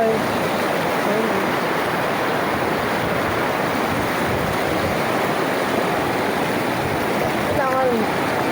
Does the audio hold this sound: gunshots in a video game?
no